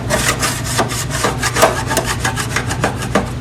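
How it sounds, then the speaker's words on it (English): A putty knife scrapes baked-on residue off the sides of a Duke broiler, giving steady rasping strokes in a fast repeated rhythm, close and fairly loud with no talk. "we are going to be scraping these 3 sides of the broiler"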